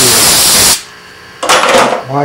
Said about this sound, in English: Take your carburetor cleaner or your acetone or what have you and spray your rag